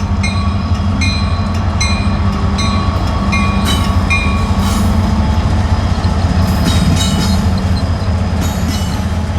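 A train rolls across a through-truss lift bridge over the Tennessee River at Decatur, Alabama, a loud steady rumble with repeated wheel clicks and metallic rattling that continues the whole time.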